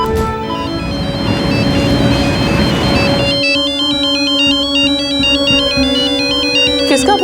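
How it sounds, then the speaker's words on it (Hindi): A phone ringtone plays a repeating electronic melody, loud and close, continuing steadily after a burst of noisy sound at the start. "किसका फोन है जी?"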